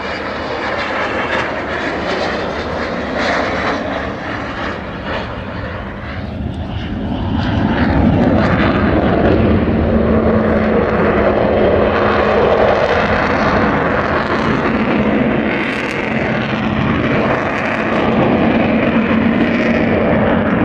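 The Avro Vulcan XH558 jet bomber roars past at a Cosford airshow with its undercarriage retracting, a broad, steady rumble that swells louder midway and holds as a powerful sustained roar, with no voices over it.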